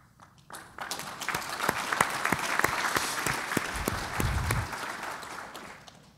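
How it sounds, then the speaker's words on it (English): Audience applause at a leadership conversation event, rising quickly into dense clapping with a few sharp individual claps and a low thump, then tapering off after about six seconds. "We got an applause for empathy"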